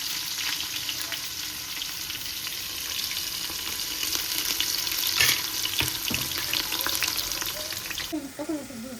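Onion and tomato fry in a pan with a steady, close, dense sizzle and crackle that never lets up, a brief sound of running water joining near the end.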